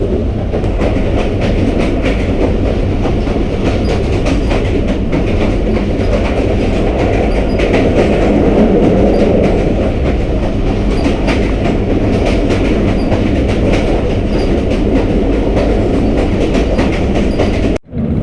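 Continuous loud rumble inside the Mehr Express AC standard passenger train running between Rawalpindi and Multan on Pakistan's ML2 line, dense low roar with steady wheel clatter throughout, cutting off abruptly at the end.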